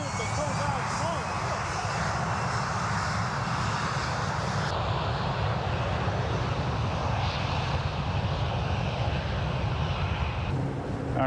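An airplane coming in to land in a crosswind gives a loud, continuous engine drone blended with rushing wind noise, holding steady for several seconds with people's voices mixed in.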